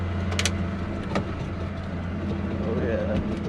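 A three-cylinder snowcat engine runs steadily close by with a low, even rumble, and voices are heard over it.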